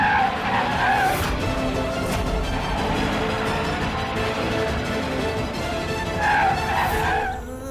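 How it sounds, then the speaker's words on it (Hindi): A car with failed brakes skids and squeals its tires in a TV drama scene, a loud sustained screech lasting several seconds with a sharp squeal near the end, no speech over it. "गाड़ी का ब्रेक फेल हो गया है"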